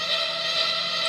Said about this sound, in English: And this is actually two vocal samples combined on a loop.